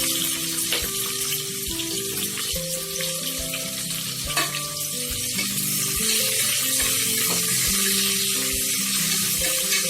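Green chilies and onion fry in a pan with a continuous close sizzle and crackle, and occasional stirring clicks and scrapes can be heard over the hiss.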